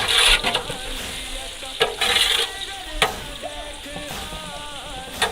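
Onions frying and browning in oil for a large 10 kg pot of Pakistani chicken degi biryani, a steady close sizzle broken by clinks and scrapes of stirring, with no talking.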